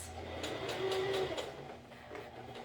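A sewing machine topstitches a V-neck garment, running quietly with a soft, steady rhythmic stitching pulse.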